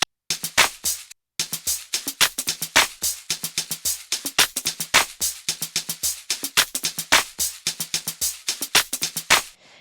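A music loop sped up with Logic Pro's speed effect, a rapid, dense run of punchy drum hits and bright percussive bursts with a brief gap near the start, loud and close with no voice.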